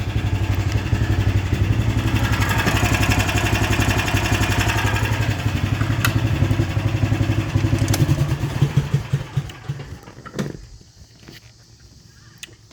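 A sideways-mounted small engine in a 1988 EZGO golf cart chugs steadily at idle with a rapid, even rhythm, close by, then it sputters, clatters and shuts off near the end.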